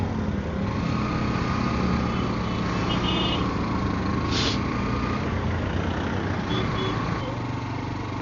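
Busy road traffic on a hill-station street in Kodaikanal, a steady close rumble of engines with a high beeping tone briefly rising midway and fainter beeps later, continuous throughout with no pauses.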